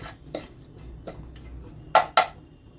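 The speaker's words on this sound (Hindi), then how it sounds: "सूजी को इतना रोस्ट करेंगे इसका कलर हल्का ब्राउन हो जाए। हाथ चलाते रहेंगे बराबर कि जले ना।" Semolina is stirred and roasted in a pan for raw mango gudamba, heard as sparse metallic scrapes and a few sharp spoon-on-pan knocks over a quiet background, with no talking.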